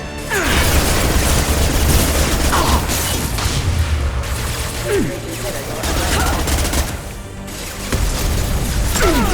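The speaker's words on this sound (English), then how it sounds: "Taking heavy fire!" Heavy sustained gunfire and explosive booms in the Mass Effect 2 video game, loud dense bursts of rapid shots and impacts continuing throughout with a voice briefly audible in the mix.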